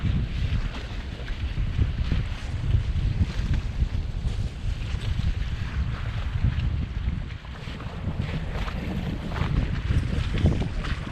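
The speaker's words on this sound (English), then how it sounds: "Oh, we're still tacking down the estuary." Steady, loud wind roars across the microphone aboard a small sailboat tacking down an estuary in October, with water rushing along the hull and the boat's motion audible underneath, no one speaking.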